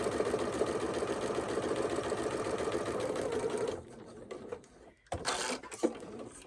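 A sewing machine runs steadily for about four seconds stitching quilt blocks at a quarter-inch seam, close and even, then stops, followed by a few clicks and handling noises.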